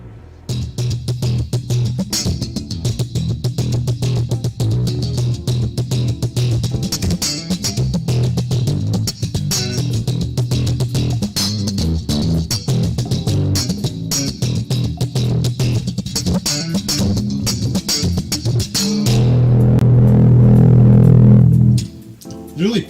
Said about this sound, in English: After you've done that, you restring your instrument and it will sound something